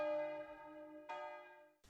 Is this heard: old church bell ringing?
yes